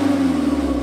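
An Audi engine idles with a low, steady purr, a close and continuous hum with a faint rhythmic grumble, alone without speech, lasting under a second.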